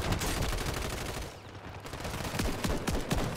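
Rapid gunfire from a Call of Duty match crackles in dense bursts, loud and busy, with a short lull midway before the shots pick up again.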